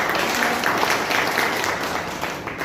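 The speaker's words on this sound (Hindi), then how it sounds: "तालियां बहुत अच्छी बज रही है" Audience clapping at a product presentation for joint-pain tonic, steady dense applause filling the whole stretch at moderate level.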